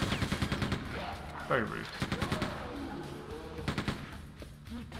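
Enemy gunfire in Quake II: rapid bursts of repeated shots, fairly close and loud, clustering at the start, middle and near the end, with a voice talking over parts of it.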